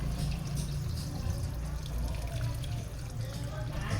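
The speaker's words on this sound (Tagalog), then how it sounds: "Magdadagdag na lang tayo ng tubig." Water running into a pot of chicken pochero broth with chicken cubes, a steady, close splashing pour with a low rumble underneath and no talk.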